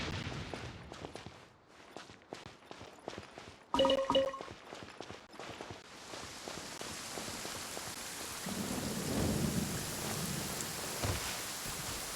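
Thunderstorm in Genshin Impact: steady rain hiss with a sharp thunder crack near the four-second mark, then a rolling, rumbling downpour that swells louder toward the end, with no voices.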